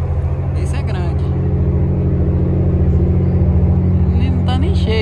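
A large ferry boat arrives at the dock while the listener waits on board a vehicle; a heavy, steady engine rumble with a low throb holds throughout, loud and close, with faint voices now and then.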